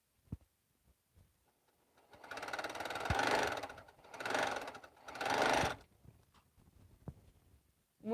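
A home sewing machine stitches long pieces of quilt fabric in three close, whirring bursts of running with short pauses between, framed by quiet clicks and handling knocks.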